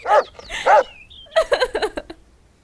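A dog gives a couple of short whimpers followed by a quick run of yipping barks, close and clear over quiet surroundings.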